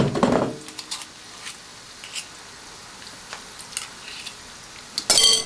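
Potato and onion pakoras fry in oil, sizzling and crackling at a low steady level, with a louder burst of hissing near the start and again at the end as food is stirred or added.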